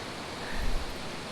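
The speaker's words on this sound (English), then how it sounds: "creek waterfall" Water tumbling over a small creek waterfall, a steady broadband rush with a brief swell in the middle, close and continuous with no voices.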